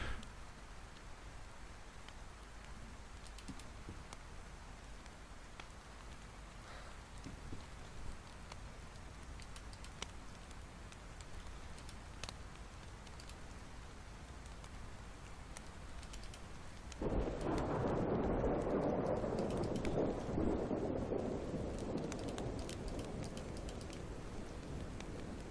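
Heavy in-game rainstorm with thunder in the DayZ video game, a steady wash of rain that swells sharply louder partway through into a dense downpour, with no talking.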